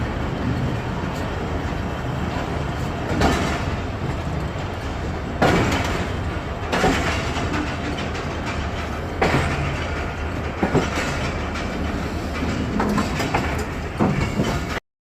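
The Hazara Express pulls away from Kotri Junction at night and rolls along the rails: a continuous heavy rumble with rhythmic clickety-clack and occasional knocks and bangs from the carriage, heard from on board.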